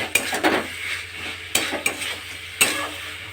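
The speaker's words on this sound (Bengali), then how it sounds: "এবার হালকা করে নাড়িয়ে নেব, যাতে না ভাঙে, গোটা গোটাই থাকে।" A spoon gently stirs rui fish curry in a pan, giving a few soft, irregular scrapes and taps against the metal over a low, constant sizzle.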